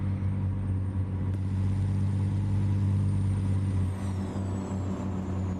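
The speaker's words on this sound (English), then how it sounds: "I really enjoy listening to that engine." A truck engine in American Truck Simulator gives a deep, steady rumbling drone, loud and continuous, with a faint hiss near the end and no talk.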